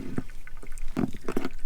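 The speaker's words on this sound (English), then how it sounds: "So as you can see, the water's coming out," Water flows by gravity through a hose from a folding water tank, giving soft, uneven splashing and trickling in short, irregular bursts close by.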